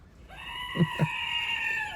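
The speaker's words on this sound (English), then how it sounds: "All I have to offer today is a goat scream." A goat lets out a long, loud, wavering scream that holds for nearly two seconds, with a couple of low thumps partway through.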